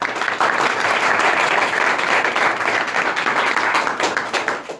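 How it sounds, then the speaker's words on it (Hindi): At a school, students and staff give loud, sustained applause for a pupil who answered a physics question, a thick, continuous patter of many hands lasting nearly five seconds and easing slightly at the close. "तालियां बजनी चाहिए इनके लिए"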